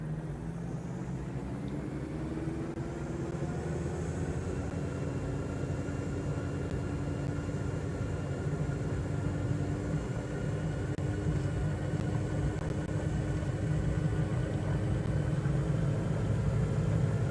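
A Diamond DA40 light aircraft's engine runs at full throttle for takeoff, a loud, steady droning roar with a constant propeller hum heard from inside the cabin, with no talking.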